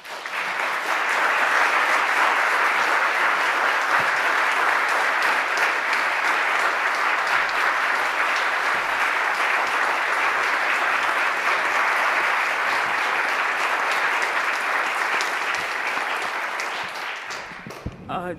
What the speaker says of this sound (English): Will you please give her a large round of applause?